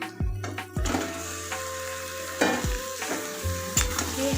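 Mutton pieces frying in a pan for mutton kasha, a close sizzle broken by repeated scraping stirs and clanks of a spoon against the pan every second or so, no talking.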